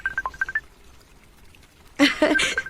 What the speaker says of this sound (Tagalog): Natingog mo yung cellphone ni mo.